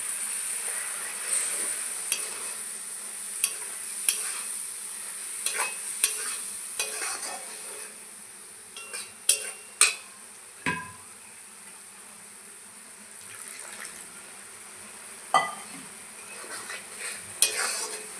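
Mung dal and ash gourd simmer and get stirred in a pot, a steady high sizzle with scattered spoon scrapes and knocks throughout, no talking.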